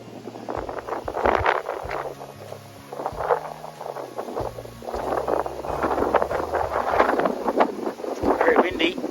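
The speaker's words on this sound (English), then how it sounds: "Very windy." Gusty wind buffets the microphone with low rumbling bursts atop a Glasshouse Mountains summit in Queensland, while people talk over it throughout.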